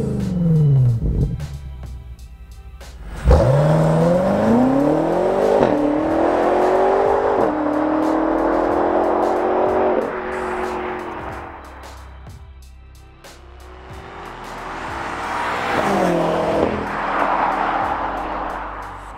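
A 2020 BMW X5M Competition SUV with a 617-horsepower twin-turbo engine pulls hard while driving, its loud exhaust roar rising through repeated revving surges and shifts, then easing off before building again.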